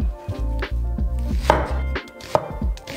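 A knife chops half an onion on a cutting board in a quick, even run of close, crisp strokes, with no voices.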